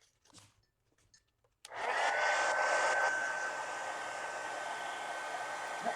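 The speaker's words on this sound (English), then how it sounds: "Get the heat gun." A heat gun switches on and blows a steady, close, loud whoosh with a faint whine during paper crafting for a collage steampunk mini book, after a few quiet handling sounds.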